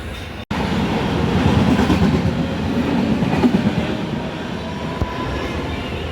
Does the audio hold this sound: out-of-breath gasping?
no